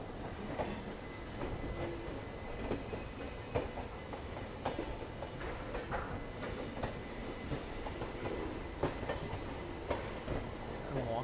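The rake of the Howrah–SMVT 12863 train being placed at a station platform, rolling with rhythmic wheel clicks and occasional metallic knocks over a steady rumble, fairly near.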